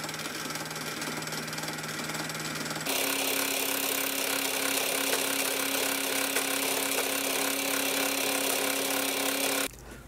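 Deburring a machined steel piece for a two-piece milling machine vise, likely with a power grinder or similar tool: a steady, loud broadband grinding runs for most of the clip, with a lower motor hum before it starts.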